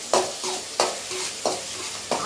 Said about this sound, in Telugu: ఆనియన్స్ కొద్దిగా బాగా ఫ్రై చేసుకుంటామండి.